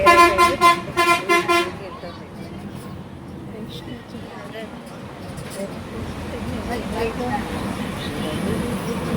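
Road traffic heard from inside a vehicle, opening with a burst of repeated loud horn toots, then a steady rumble of engines and road noise with occasional distant honks, while people talk over it.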